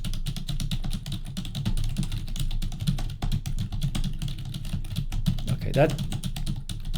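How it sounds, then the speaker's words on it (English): Rapid clattering keystrokes on a computer keyboard, close and steady throughout, with a brief louder burst near the end. "here's another keyboard. All right, you should hear some typing now."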